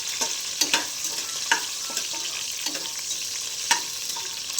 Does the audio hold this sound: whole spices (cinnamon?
yes